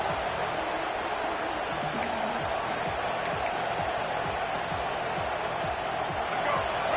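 A steady roar from a college football stadium crowd during a third-down defensive stand, Auburn versus FSU, a broad continuous wash of noise with a few sharp accents and a faint rhythmic thumping underneath.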